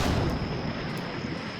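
A tank gun in the Combat Mission Fire and Rubble game, set in Berlin 1945, lets off a single loud, close blast that fills the whole clip with a broad, rumbling roar that slowly fades, with no voices.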